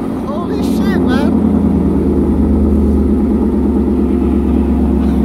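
A Ford Mustang's engine exhaust, set to normal mode, roars loudly and continuously with a deep throbbing rumble, while excited voices can be heard over it.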